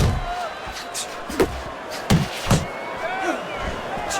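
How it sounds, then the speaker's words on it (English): Several blows to the head connect in the Fight Night Champion boxing game, a series of sharp, punchy thwacks spaced irregularly over a murmuring arena crowd. "Good flush shot upstairs."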